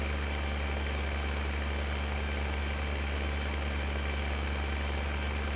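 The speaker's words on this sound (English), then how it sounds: "looks like our combine is still moving" A combine harvester engine in Farming Simulator 15 on the Sosnovka map drones in a steady, unbroken low hum, like an idling engine, with no talk.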